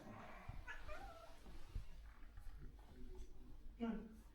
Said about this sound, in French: Parce qu'il miaule beaucoup.